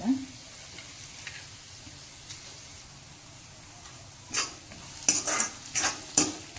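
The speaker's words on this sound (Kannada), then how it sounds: "ಈಗ ಈ ಟೈಮಲ್ಲಿ ನೀವು ರೈಸ್ ಹಾಕ್ಕೊಂಡು ಕಲಿಸ್ಕೊಳ್ರಿ." Gobi fried rice of cauliflower and rice being stirred and fried in a pan, a soft continuous sizzle broken by bright metallic scrapes and clinks of a spoon, clustered toward the end, close and without talk.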